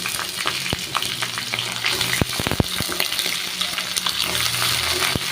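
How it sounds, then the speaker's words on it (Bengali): Potatoes and drained pumpkin greens fry in a pan, a steady close sizzle broken by sharp crackles and a few spatula scrapes, with no talking. "দেখো আমার লাল লাল করে আলু ভাজা হয়ে গেছে আর এই যে এই জল ঝরানো যে শাকগুলো তো সেগুলোই কিন্তু আমি এবার দিয়ে দেবো"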